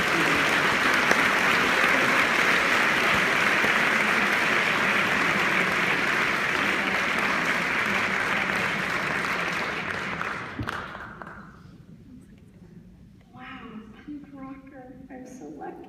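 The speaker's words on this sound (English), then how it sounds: "let's give them a big round of applause as they come out here to speak" Audience applause as speakers walk on stage at a microbiome event, a long steady burst of clapping that fades after about ten seconds into quiet room sounds.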